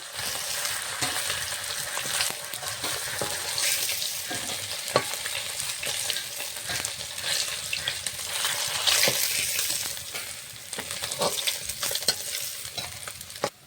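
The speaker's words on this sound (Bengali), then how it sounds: "মাছগুলো ভাজা হয়ে গেছে, লাল লাল করে ভাজিয়ে নেব।" Fish sizzles steadily in hot oil, with occasional scraping and clinking of stirring throughout.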